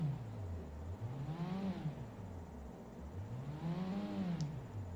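A Liberty Walk Mazda RX-7's rotary engine revs up and drops back twice in a video game, its pitch sweeping high and low. The engine sounds somewhat distant and fairly quiet.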